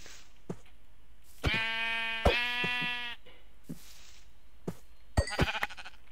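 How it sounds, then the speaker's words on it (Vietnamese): Minecraft sheep bleating in the video game, two drawn-out wavering bleats close together, followed by quieter clicks and a short burst of further bleating near the end. "À, có một con cừu nữa này."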